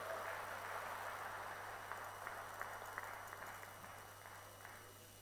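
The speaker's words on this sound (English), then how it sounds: "Can we have a bigger round of applause for the chief guest?" Applause from the audience at the FTCCI Excellence Awards 2022 ceremony at HICC, a faint, steady wash of clapping that slowly fades across the stretch, heard from a distance with a low hum underneath.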